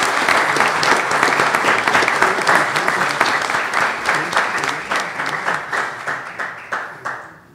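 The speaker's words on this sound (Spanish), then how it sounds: "Yo pido un aplauso" Audience applause at a Spanish-language molecular genealogy panel: loud, dense clapping from a crowd that gradually thins into fewer, more distinct claps before fading out.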